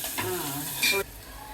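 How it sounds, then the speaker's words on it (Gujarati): Onions fry and sizzle in a pan with mustard seeds while being stirred, a close, steady hiss with a brief scrape of a spoon, heard alone and not under talk. "ડુંગળી બરાબર ફ્રાય કરીશું"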